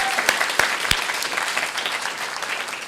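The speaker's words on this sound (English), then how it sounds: "Give them all a big applause" Audience applause at a symposium, a steady wash of clapping with a few sharp, close individual claps standing out early on.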